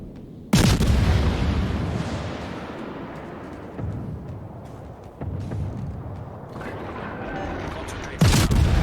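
Heavy cruiser-style naval gun salvos in World of Warships from a Royal Navy Edinburgh cruiser, three loud booming volleys with long rumbling decay, spaced several seconds apart.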